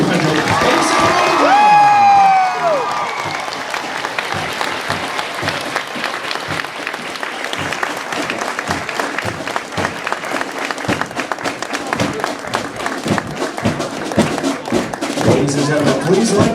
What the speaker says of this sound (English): let's have one more round of applause for the